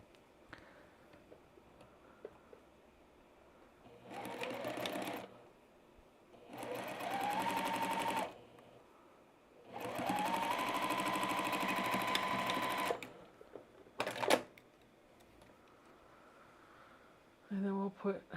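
A sewing machine stitches a Sand Dollar quilt block in several steady whirring bursts of a few seconds each, separated by pauses with faint handling sounds, close and clear.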